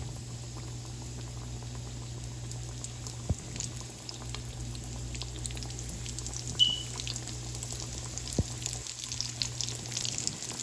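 Vegan chicken strips sizzling in hot oil in a pot, a steady low crackling and bubbling hiss throughout, with a couple of faint taps from utensils and no talk.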